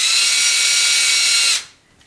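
A drill bit bores out the bearing seat in an aluminium axle for a Tamiya Clodbuster, a loud steady high-pitched whine of cutting that runs alone for about a second and a half, then stops abruptly.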